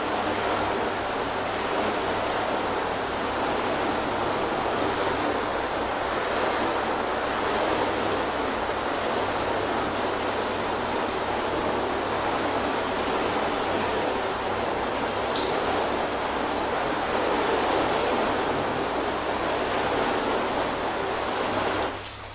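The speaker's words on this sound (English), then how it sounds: "let's start off by giving it a little rinse, see how they're looking before we do our first wash." Water sprays steadily over a car, rinsing the bodywork before a wash, giving a loud, continuous hiss that barely changes and has no voices over it.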